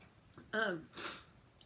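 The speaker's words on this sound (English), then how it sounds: "Oh, I'm gonna sneeze." A single quiet sneeze with a short voiced burst and a breathy release, close and brief.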